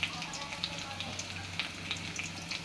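Chillies and onion frying in a pan and being stirred, a faint continuous sizzle with light crackles and occasional soft scrapes, quiet and close.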